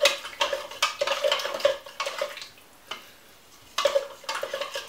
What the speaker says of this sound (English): So I'm gonna give that a stir